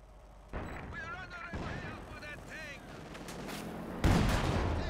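Tank cannon fire in a Company of Heroes 2 battle strikes a Panzer IV. Two heavy booming blasts land a few seconds apart, with a rumbling battle din between them.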